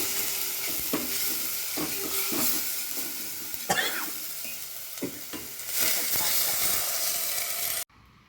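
Spices and turmeric sizzle and fry in a hot pan for kadhi, a steady hiss broken by repeated scraping stirs, ending abruptly.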